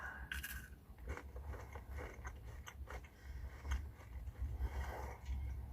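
A crunchy, very sweet Ramadan pastry chewed close up: faint, quiet bites and crisp crackling crunches at an uneven rhythm over a soft low background.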